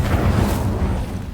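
A fire spell cast in the video game Hogwarts Legacy bursts out as a dense, rumbling whoosh, loud and close, thinning out over about a second.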